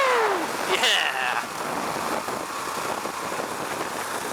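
A Husqvarna Vitpilen 701 motorcycle cruises in fifth gear at about 3,000 RPM, a steady low engine drone and wind rush after a brief rising whine at the start, heard from the rider's position.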